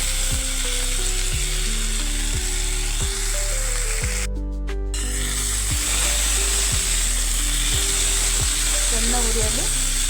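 Potatoes frying in a pan for aloo palya, a loud continuous sizzle and hiss up close, with a steady background hum and a brief clatter partway through.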